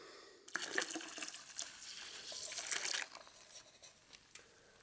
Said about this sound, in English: I melted some sugar, and I'm going to just pour that in right now